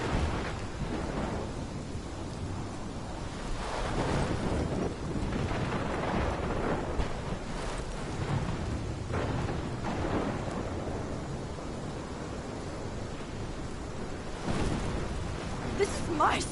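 In the game Life is Strange, a thunderstorm rumbles with deep rolling thunder over steady heavy rain, broad and loud throughout, with several louder bursts.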